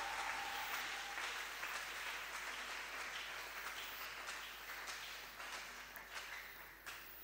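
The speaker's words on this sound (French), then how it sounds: "Nous allons ajouter encore les acclamations." Applause added to a church sermon fills the clip, a steady wash of many hands clapping that slowly fades, faint and distant in level.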